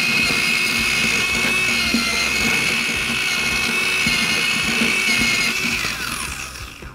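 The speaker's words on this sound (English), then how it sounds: "Grab your Metabo mortar mixer" Metabo mortar mixer churning potatoes in a bucket, a loud, steady high motor whine with a grinding undertone that holds for several seconds, then winds down and fades at the end.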